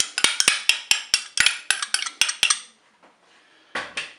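Metal spoon stirring crème fraîche into cooked rice with leeks and salmon in a Cookeo multicooker pot, giving a quick series of close, bright clinks and scrapes against the bowl, then a pause and a final pair of knocks.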